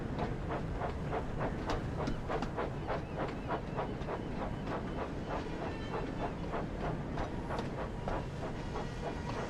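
A train rolls steadily past at close range, its wheels beating a regular clickety-clack rhythm over the rail joints beneath a constant loud rumble, with no voices.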